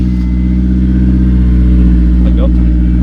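Honda S2000 fitted with a new exhaust, idling loud and close with a steady, deep engine hum, while people talk over it.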